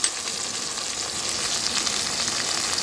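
Onion sizzling and frying steadily in a pan for a Bengali chatar ghugni, a dense continuous hiss that stays even and fairly loud throughout with no talking.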